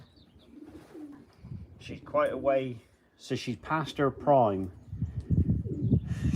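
A racing pigeon, a combine-winning hen, coos softly while held in hand, low burbling calls mixed with close speech from someone talking over her.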